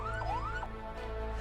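An ambulance siren wails in rising and falling sweeps while the vehicle carries an accident patient through jammed traffic in Klaten. The siren is steady and prominent over a low rumble of engines, with no talk.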